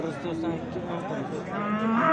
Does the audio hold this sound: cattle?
yes